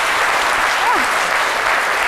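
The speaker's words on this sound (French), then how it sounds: "est-ce qu'on peut applaudir ça?" A studio audience applauds during a comedy show, a dense, steady clatter of many hands clapping close and loud throughout, with a faint voice rising briefly through the middle.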